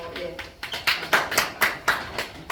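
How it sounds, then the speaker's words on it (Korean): A church congregation applauds with a rhythmic run of distinct claps about every quarter second, moderately close, with voices murmuring underneath. "박수 쳐주세요."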